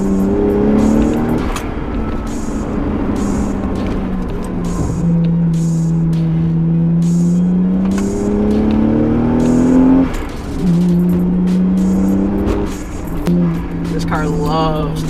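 A 1994 right-hand-drive Toyota Soarer with the 1JZ-GTE turbo engine drives through corners on a country road, its engine revving up and down in repeated surges of acceleration, loud and close from inside the car.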